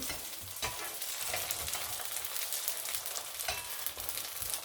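Faux msemen flatbread fries in a pan with a continuous soft crackling sizzle, broken by occasional scraping stirs and turns, fairly quiet and close.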